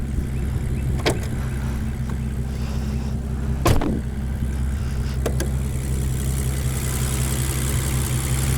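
A 2017 Aston Martin DB11 with a 5.2-liter twin-turbo V12 and aftermarket exhaust idles with a steady, deep rumble, close and continuous, broken by a few brief sharp clicks and knocks.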